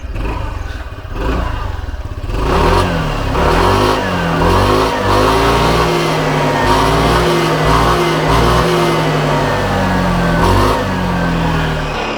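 A Hero Xoom 160 scooter with a 160cc engine and a rugged aftermarket exhaust starts and revs. The loud, steady engine drone rises and falls through repeated throttle blips, close up and alone.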